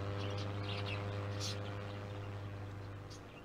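Caged birds in the Exotica Petshop Simulator video game chirp in scattered short tweets over a steady low hum, fairly faint.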